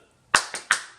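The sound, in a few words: group clapping in rhythm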